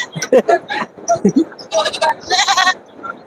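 Sheep bleat repeatedly nearby at the Melapalayam goat market, several loud overlapping calls in quick succession.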